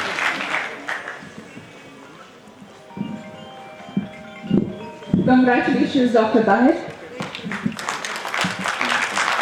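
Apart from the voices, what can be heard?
audience applause for an exam rank holder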